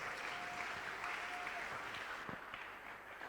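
A church congregation applauds steadily at a worship service, a dense, even patter of many hands clapping at moderate distance that continues throughout without a break.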